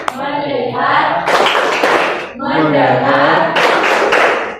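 A classroom group performs the Indonesian 'tepuk fokus' clapping game, loud patterned bursts of many hands clapping in short rhythmic phrases separated by brief pauses, close and energetic.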